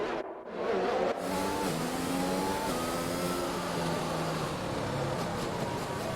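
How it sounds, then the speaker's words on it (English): Race cars pull off the grid at the Dutch Grand Prix in a sim racing game, their engines droning and rising steadily in pitch at low volume, with no pauses. "the last of them just pulling off the grid right now"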